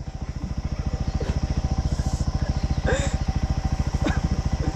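Motorcycle engine chugging steadily with a fast, even pulse while riding over a potholed, rocky mountain road, close and continuous, with occasional knocks and voices talking over it.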